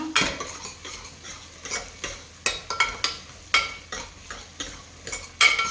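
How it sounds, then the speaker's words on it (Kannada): Onion and fenugreek seeds sauté in oil as the base for a vanjaram fish curry. A utensil scrapes and clinks against the pan in an irregular rhythm over a soft, constant sizzle, close and with no talking. "ಮೊದಲು ಎಣ್ಣೆ, ವೆಂದ್ಯಂ, ಈರುಳ್ಳಿ, ಎಣ್ಣೆ ಹಾಕಿ ಬಾಡಿಸ್ಕೊಬೇಕು"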